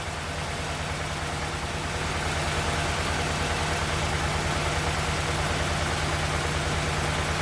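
A car engine idles steadily during warm-up regulator testing, giving a constant low rumble with an even, close hum and no talk over it.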